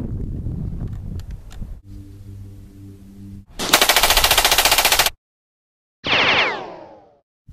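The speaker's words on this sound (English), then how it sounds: "Daniel, you're clear to fire anytime you want." Machine guns fire in bursts at a staged Army weapons demonstration: loud, close rapid chattering volleys, one long sustained burst and a shorter final burst, with mechanical rumble between them and a silent gap.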